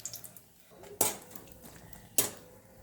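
Dried red chillies and bay leaves stirred in a pan, with two sharp metallic clinks of a utensil against the pan over faint frying hiss, quiet and close.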